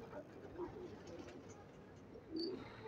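Pigeons that have just landed give soft, low coos a few times under a faint background, with a brief higher chirp near the end.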